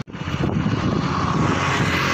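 A KTM 200cc motorcycle engine roars steadily while riding, a loud, dense drone mixed with rushing wind noise and no talk.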